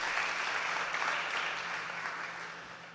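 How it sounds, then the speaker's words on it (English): Audience applause on a pitch-competition stage at South Summit, a dense, even burst of clapping from a crowd that holds steady before slowly tapering off. "One more time, a big round of applause for Alberto from Dalatea."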